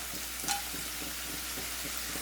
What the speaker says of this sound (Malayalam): ഇനി ചൂടായിട്ടുള്ള എണ്ണയിലേക്ക് നമുക്ക് ഹോൾ സ്പൈസസ് ചേർത്ത് കൊടുക്കാം.